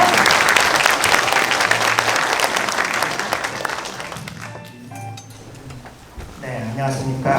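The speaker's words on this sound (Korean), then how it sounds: "여러분 큰 박수로 맞이해주시기 바랍니다." Loud, dense applause from an audience at a 2023 South Gyeongsang Province Mental Health Day ceremony, welcoming a speaker to the stage; the clapping thins and fades out, then a voice starts near the end.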